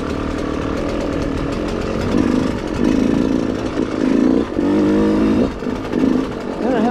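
A dirt bike engine drones steadily while riding a trail, with a loud, continuous buzzing note that rises and dips slightly as the throttle varies.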